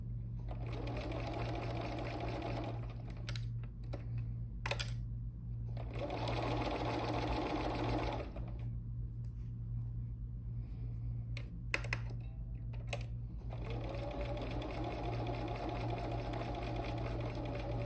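A home sewing machine stitching pieces for an improv basket quilt block runs in several bursts of rapid, even whirring, with short pauses and clicks between them over a constant low hum, close and fairly loud, no talk over it.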